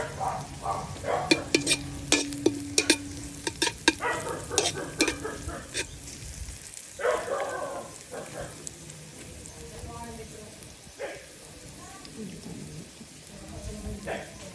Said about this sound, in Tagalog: naglagay na po tayo ng mantika at saka bawang po yan guys. Ayan. Ano pa natin ng konting brown po yung bawang po.